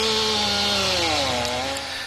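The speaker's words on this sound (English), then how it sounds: "The sound of chainsaws replacing the howling of the wind as crews were knocking down toppled trees" Chainsaws cut through storm-toppled trees in North Saanich, a loud, steady engine whine that drops in pitch as the saw bogs into the wood, continuous with no talk.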